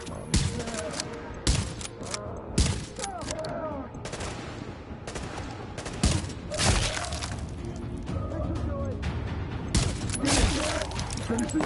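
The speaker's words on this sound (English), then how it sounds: "Let's blow his tank up." Explosive blasts and scattered gunfire from a tank being blown up in a PS4 video game, with several sharp loud bangs and crashing bursts over a steady battle din, and voices talking throughout.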